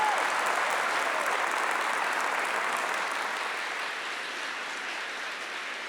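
A church congregation applauds during a talk, a thick, continuous wash of clapping from a large crowd that stays loud and even before easing slightly toward the end.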